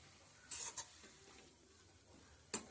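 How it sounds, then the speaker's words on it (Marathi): A spoon scrapes and knocks in a pot of cowpea leaf and dal curry, a few quick clinks early on and one sharp knock near the end, over a quiet room. "आणि ही आपण ढवळून घ्यायची आणि पुन्हा झाकण मारून ठेवायचा"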